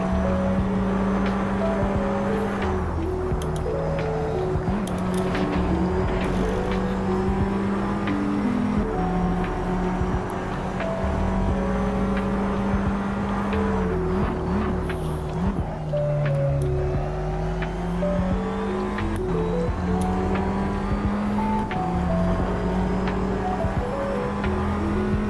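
A race car in Assetto Corsa runs without its wing. The engine drones loudly and climbs and drops through the gears, with tire squeal mixed in throughout a sustained lap.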